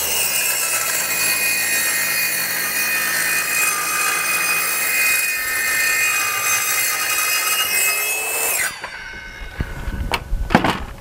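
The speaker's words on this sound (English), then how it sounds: "One of the great advantages to a track saw like this is being able to stop and restart with very little penalty." TrueTrac track saw cutting through wood with a loud, steady whine that holds for about nine seconds, then spins down, followed by a few clunks and rattles close by.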